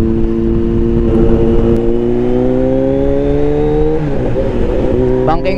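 Several high-revving 400cc-class superbikes race flat out on a northern road ride, with steady loud engine drones that rise in pitch together and shift near the end as the bikes hold speed.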